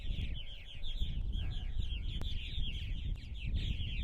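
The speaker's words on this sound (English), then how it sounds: "We're going to take a look at our purple martin colonies here tonight, Saturday night. We still have plenty of birds here." Many purple martins chirp and chatter together at an evening nesting colony on eastern Long Island, New York, in a busy, continuous chorus over a low rumble of wind or background noise.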